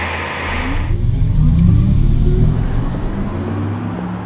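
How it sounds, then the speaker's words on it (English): Audi R8 e-tron electric sports car on the road, its synthetic drive sound a rising and falling low whirring hum that swells loudly and then settles, with a brief bright hiss at the start. "This is what the Audi R8 e-tron sounds like on the road."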